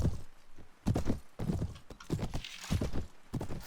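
Hooves of a horse clip-clop in a medieval battle game set in Essos, a series of heavy, irregular thudding steps close by, loud and alone without talk.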